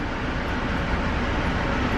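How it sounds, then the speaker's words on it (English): A steady, dense rumble of a moving train heard from inside a carriage, continuous with no voices. "On board Newark Regional, the 85 packed train."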